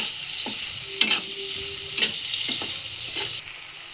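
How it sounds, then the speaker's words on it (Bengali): Tomatoes are stirred into a spice mixture frying in a pan for a fish roe dish, with a steady loud sizzle and several sharp scraping clicks of the spoon before the hiss cuts off. "টমেটো দিয়ে একটু মিশিয়ে নেব মশলার সাথে"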